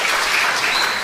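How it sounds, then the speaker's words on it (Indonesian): Church congregation in Cimahi clapping together, a dense sustained round of applause filling the whole short moment without voices. "Tepuk tangan dong buat jemaat di Cimahi"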